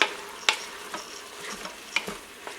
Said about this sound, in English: Now I'm going to stir this all up.